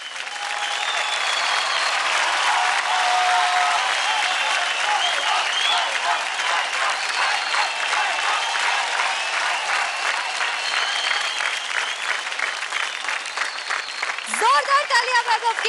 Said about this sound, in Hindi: जोरदार तालियां वैभव के लिए।